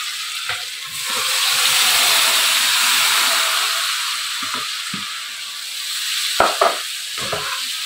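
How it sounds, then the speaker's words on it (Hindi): French fries deep-frying in hot oil give a steady, loud sizzling hiss throughout, with a few soft clinks and knocks of utensils near the end. "ये देखें फ्राइज को मैं यहाँ फ्राई करने रही हूँ।"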